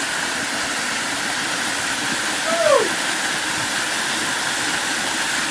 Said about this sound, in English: So they found another waterfall.